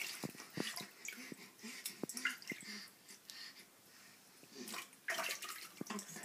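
A baby girl gets a bath, with soft splashes and trickling water as she kicks her legs, quiet and close, punctuated by small drips and sharper splashes.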